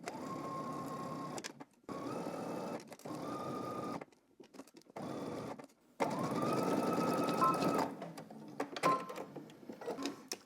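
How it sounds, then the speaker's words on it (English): A sewing machine stitches a 5/8-inch seam on a pair of pants, running in several bursts of steady mechanical whirring separated by short pauses, with a longer, louder run near the end. "we're gonna go ahead and stitch this using 5/8 of an inch seam allowance"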